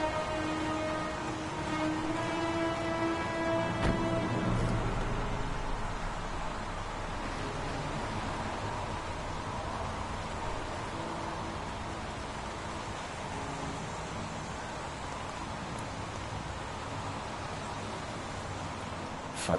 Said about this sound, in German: Verdammter Regen. Hat nicht aufgehört, seit ich hier bin.